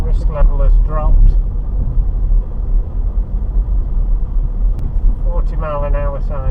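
Car engine and road rumble as the vehicle picks up speed leaving a town centre onto a clear road, a steady low drone with someone talking over it at the start and end.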